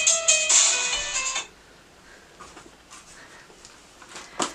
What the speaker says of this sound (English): And apparently my phone's going to start ringing now.